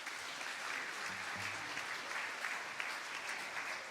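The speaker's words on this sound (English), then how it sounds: "big round of applause for Damian Oliver" Steady, full applause from the crowd at the 2024 Victorian Racing Awards night, a continuous wash of many clapping hands holding at an even level throughout.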